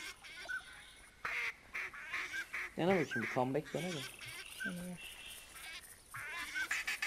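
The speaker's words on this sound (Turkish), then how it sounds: "geldi bile bir ördek sürüsü şu anda" Several ducks quack in short bursts in the hunting video game The Hunter Classic, fairly close, mixed with a person talking intermittently.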